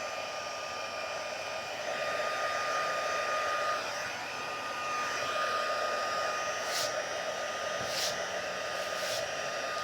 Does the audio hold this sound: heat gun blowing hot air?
yes